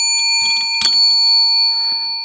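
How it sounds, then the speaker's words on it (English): A bell rung once during a Scratch & Match recap, a bright metallic ring with a short decay, moderately loud against a steady high background tone, with a faint second strike after. "I guess I'll ring the bell"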